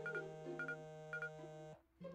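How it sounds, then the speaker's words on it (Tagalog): A mobile phone text message alert in a Tagalog-dubbed animated series, a short beeping tone pattern repeating in quick pairs over a steady musical hum, fairly quiet and with no talking. "May nag-text."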